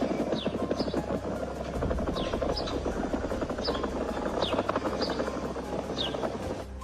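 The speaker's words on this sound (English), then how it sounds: "there's this guy posting clips around Yellowstone of the ground literally groaning" A steady, helicopter-like throbbing rumble said to come from the ground near Yellowstone, droning evenly and loudly throughout with a pulsing beat and occasional faint chirps over it, with no talk.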